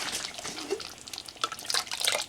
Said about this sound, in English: And to the same store-bought sauce, we're adding a little bit of water.